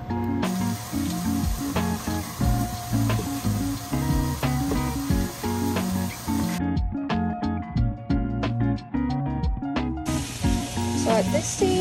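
Onions frying in a pan give a steady, close sizzle and spatter that runs throughout, with a layer of background music.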